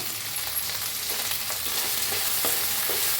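Tomatoes hitting a pan of potato and brinjal curry frying with ginger-garlic paste: a dense, steady sizzle with soft stirring scrapes, close and fairly loud, with no talk.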